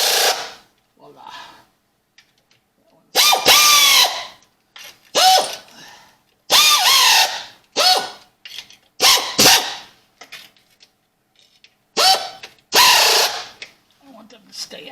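A power tool on a low setting tightens transmission pan bolts on a Chevrolet Turbo 350, in short whirring, ratcheting bursts separated by pauses, close and loud.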